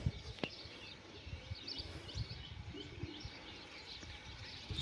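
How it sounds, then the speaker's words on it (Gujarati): Birds chirp and tweet faintly at a distance on a quiet village morning outdoors, with scattered calls over soft ambient background noise. "એક બાજુ પક્ષીઓનો અવાજ આવતો હોય, મજા જ આવે સાંભળવાની."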